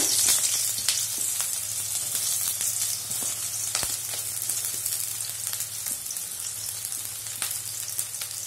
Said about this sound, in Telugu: ఆయిల్ హీట్ ఎక్కిన తర్వాత సన్నగా తరిగిన ఒక ఉల్లిపాయ